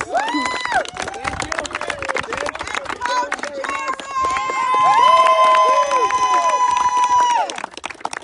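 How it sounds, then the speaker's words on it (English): A lively crowd at a tournament event, including children, cheers and shouts loudly, with overlapping excited voices swelling midway and continuing to the end. "Let's give a round of applause also for Dino for being here for day one."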